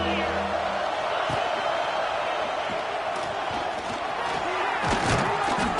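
College football stadium crowd roaring steadily through a defensive stand, a dense wash of cheering and shouts with a commentator talking over it.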